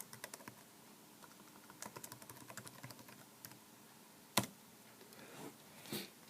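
A password being typed on a computer keyboard during a system recovery on an HP machine, heard as quiet, close, irregular key clicks with one sharper tap near the end.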